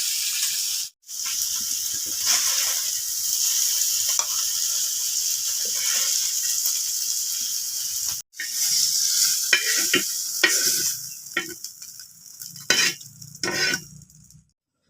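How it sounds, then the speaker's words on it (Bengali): Mola (moti) fish sizzles steadily in hot oil in a pan, with the crackle breaking off briefly twice and then turning choppy, with stirring and turning clatter toward the end. "মাছটাকে মোটামুটি বেশি একটা ভাজবো না, উল্টে পাল্টে কম করে ভেজে নেব।"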